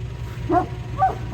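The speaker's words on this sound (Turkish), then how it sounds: "Önce bir traktörü havladılar." Street dogs bark outdoors during a winter feeding, with two separate short barks standing out over a steady low rumble of background noise.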